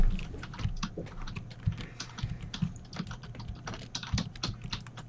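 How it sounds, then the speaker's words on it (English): Fast, busy typing on a computer keyboard, a dense irregular clatter of key presses up close with no speech. "He's going ham on his keyboard."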